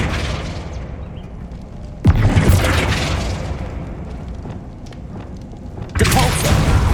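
A Flipendo spell cast in the video game Hogwarts Legacy bursts out as a loud, booming magical blast. Two sharp impacts hit about four seconds apart over a steady bed of game ambience.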